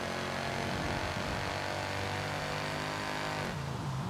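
V6 car engine in a racing video game, revving under a steady droning tone that holds and sweeps in pitch, then dips and climbs again near the end; no talking.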